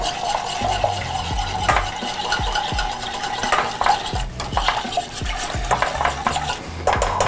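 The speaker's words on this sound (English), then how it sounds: "I'm gonna go ahead and add my cream to it as well" Cream is stirred into a pan of sauce for Gorgonzola mac and cheese. A spoon scrapes and clinks against the pan in a steady, rhythmic stir over a light sizzle, with no talking.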